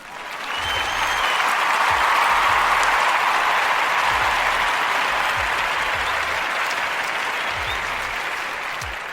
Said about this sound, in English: we're going to clap on that one